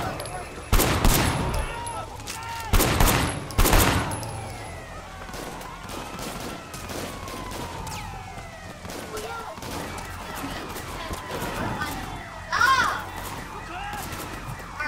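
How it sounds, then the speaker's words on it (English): Bursts of gunfire in the open-world action video game Sleeping Dogs, several sharp volleys near the start and one later, over a busy backdrop with a wailing police siren. "I don't appreciate you shooting."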